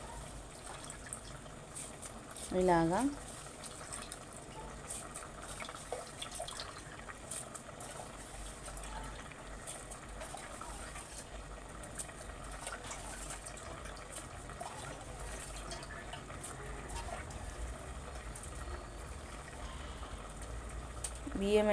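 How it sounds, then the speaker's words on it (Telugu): Soaked rice poured into boiling water in a pressure cooker for khichdi, a brief splashing pour followed by a steady low bubbling simmer, with someone speaking briefly over it. "అదనంలోనే బియ్యం వేసుకుంటున్నా. నానబెట్టిన బియ్యం వేసుకుంటున్నా నేను."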